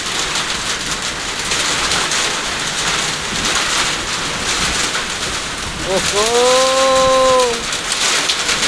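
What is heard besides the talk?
rain with wind in Kailali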